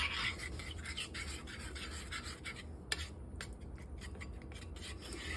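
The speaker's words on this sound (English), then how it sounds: "And then you want to grab a little spoon, mix it up." A spoon works pork ribs and five-spice together for a Chinese-style rib dinner, giving a steady run of close, rasping scrapes and rubs with a few sharper clinks, with no voices.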